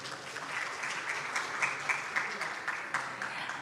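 Steady applause from a crowd at an academic convocation fills the space, even and moderately loud with no talk over it.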